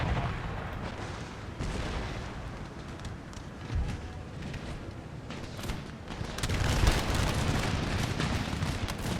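Artillery fire during a battle in the video game Empire: Total War, a dense, continuous rumble of booming cannon shots and crackling gunfire that swells louder toward the end.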